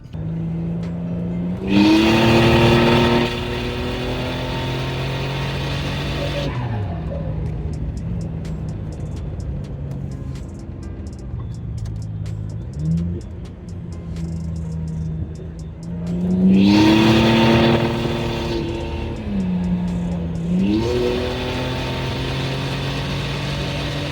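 A car with a 4T80e transmission accelerating hard toward 85 mph, two loud rising revving pulls with gear shifts, each followed by a quieter steady cruising drone, heard from inside the car with no talking.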